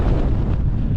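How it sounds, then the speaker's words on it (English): Strong wind buffets the microphone on a gritstone hilltop beside the trig point, a loud continuous rushing gust with no voices. "It's windy"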